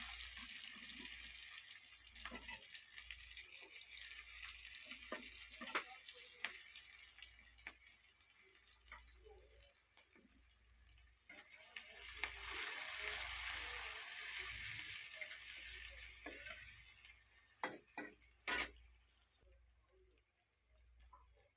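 Chopped onions fry in hot oil with a steady soft sizzle and crackle, broken by occasional clinks and scrapes of utensils, faint and continuous with no voices.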